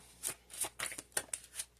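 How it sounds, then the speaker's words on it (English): Tarot cards riffle and slap in a quick, uneven run of about seven close shuffling bursts, crisp and near, with no talking. "I am really, really shuffling, and nothing's coming out."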